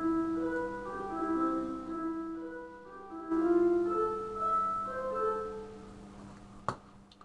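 MuseScore playback of a composed chord progression, sustained synthetic chords changing every second or so in a slow, even rhythm, clear and alone, ending with a short sharp click.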